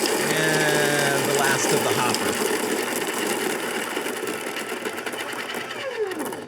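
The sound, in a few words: coffee grinder grinding beans coarse for French press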